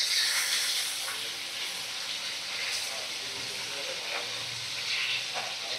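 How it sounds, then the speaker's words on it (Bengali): Fish pieces frying in hot oil in a kadai over a medium flame give a steady, close hiss and sizzle that runs evenly throughout, with a few faint crackles rising above it. "মাছ আমি ছেড়ে দিয়েছি দেখো গরম তেলের মধ্যে, আর সেগুলো ভাজা হচ্ছে"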